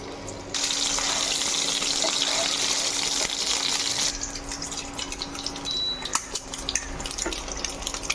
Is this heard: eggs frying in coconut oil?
yes